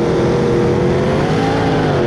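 A supercharged Ford V8 jet sprint boat roars as it launches from the start chute at Waitara, New Zealand, a loud, continuous engine drone with a slowly rising pitch, close and unbroken.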